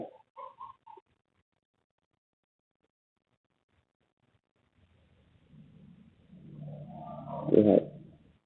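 A chicken in the survival video game Dead Relis gives a few quick, short clucks at the start, followed after a quiet gap by a swelling low rumble.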